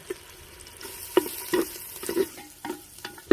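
Ground green chilies, ten or twelve garlic cloves and a piece of ginger sizzle softly in hot oil, a faint low hiss broken by a handful of sharp spoon knocks and scrapes against the pan.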